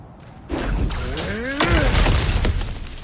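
Objects shatter and crash as they are smashed in God of War Ragnarök, a burst of breaking debris followed by a second heavier smash with scattering fragments, loud and close with faint game effects around them.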